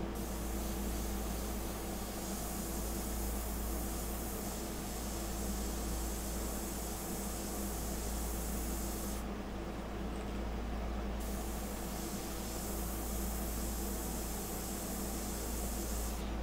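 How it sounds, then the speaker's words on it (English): An airbrush sprays India ink for portrait detail work, giving a continuous soft, even hiss that stays steady for the whole stretch with no talking, only a brief change in tone partway through. "Now the great thing working with my airbrush India ink, you get a lot less tip dry."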